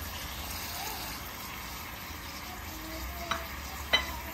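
Chopped tomatoes tipped onto frying offal (liver, kidney, heart and lung) in a pan, with a steady low sizzle, a couple of sharp clinks of a spoon near the end, and no talk.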